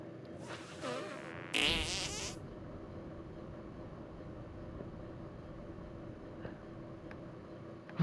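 A cartoonish fart noise from South Park: The Stick of Truth, two quick buzzy, sputtering blasts in succession, loud and close, followed by a low steady ambient hum.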